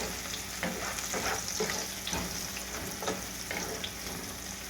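Onions sizzle and fry in a pan for an Andhra-style crab masala curry, a steady crackling hiss with a few scraping stirs, close and alone with no talk.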